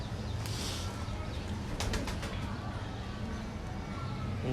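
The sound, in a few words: Rampuri breeder pigeons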